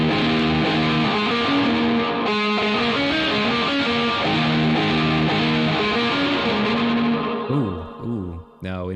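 A distorted electric guitar plays sustained chords with a washy, echoing reverb tail, steady and loud throughout, ending in a brief bending flourish.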